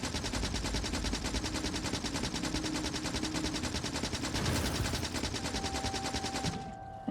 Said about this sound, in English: I'm just going to stand here with my machine gun and take out this